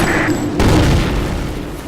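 A grenade goes off in a first-person shooter match on a sandstorm map, a loud, close boom with a rumbling tail that fills the whole moment.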